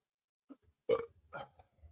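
A short, close burp sounds out, followed by a second fainter belch-like grunt in otherwise near silence.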